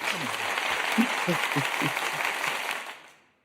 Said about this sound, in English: Y'all better stand up and clap